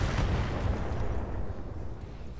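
A mech fires a shot in a video game, a loud booming blast whose rumble fills the short moment and fades slightly at the end.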